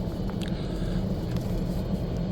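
A golf cart drives through a residential neighborhood around 10:30 at night, its motor a steady low hum with faint road rumble and no voices.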